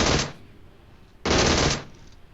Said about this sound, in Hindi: अब हम डीपी के फायर चेक करा रहे थे एक दूसरे को